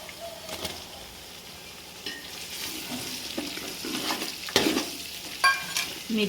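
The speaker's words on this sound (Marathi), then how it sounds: "आता ह्यात घालूया आपण मिरच्या," Green chillies stirred and sautéing in ginger garlic paste in a pan while cooking khichdi, a steady sizzle with scraping stir strokes and a few sharper clinks of the spoon near the end.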